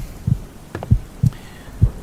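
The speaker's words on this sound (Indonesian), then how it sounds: "Dari dekat aku bisa ngerasain detak jantung kamu" A heartbeat sound effect thumps in low, soft double pulses, four beats in about two seconds over a faint hum, with no voices.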